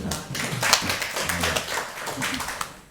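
Audience applause in a school gathering at SMK Muhammadiyah 1 Pekanbaru, a short burst of many hands clapping together at moderate distance, lasting about three seconds.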